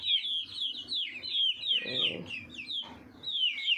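Nine hens and two roosters cluck and call in a close, busy run, with overlapping bird calls throughout and a brief low murmur partway through.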